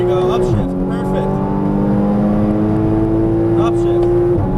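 Porsche Cayman GTS engine pulling hard at full throttle on a track, a steady loud rising drone with a brief dip as a gear changes early on, while an instructor talks throughout.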